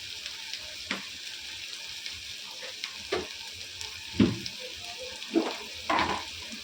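Asafoetida hitting hot oil in a pan of frying okra, with a steady low sizzle broken by several brief louder crackling bursts spread across the moment, close and without talk.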